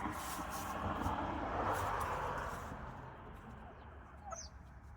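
Wild turkeys cluck faintly outdoors: a few soft, brief calls sit over a broad, hissing background that fades partway through.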